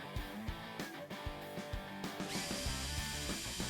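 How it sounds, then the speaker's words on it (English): A power drill with a 7/32 bit bores a hole in a UHMW plastic skid plate on a Polaris RZR 900XP, close and steady with brief pauses and changes in motor pitch. "So we're going to be using the 7/32 drill bit."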